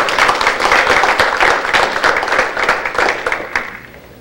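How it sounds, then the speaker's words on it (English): A crowd applauds with steady, dense clapping that tapers off toward the end, with no talking. "I'd like to give them a round of applause for being here."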